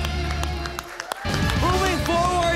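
An audience cheers and claps for Patricia at The Voice Kids Philippines, with a dense wash of crowd noise and scattered claps and a brief dip before voices rise again over the din.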